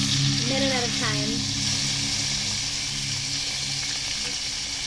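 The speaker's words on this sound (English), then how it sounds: "now you want to pick this bad boy up and start searing the" Ribeye steak sizzles loudly and steadily as it sears in a hot pan, a constant crackling hiss, with a brief voice murmuring near the start.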